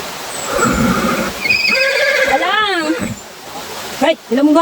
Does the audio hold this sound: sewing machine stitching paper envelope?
no